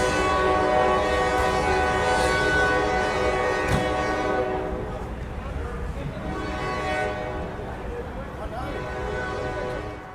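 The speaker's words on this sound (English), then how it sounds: "It's the train going by." A passing train near the Colfax community sounds its horn in a loud sustained blast that gradually fades as the train rolls by, with a voice talking over it.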